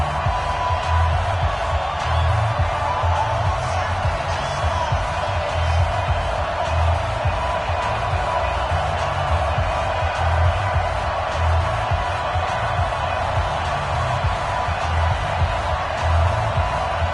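A dense, steady stadium crowd roar from an EA Sports NFL video game on PS4, Atlanta Falcons against Oakland Raiders, holding loud and unbroken throughout with faint voices beneath.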